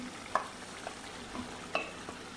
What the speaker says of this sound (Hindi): अभी हम इसमें गोश्त डालेंगे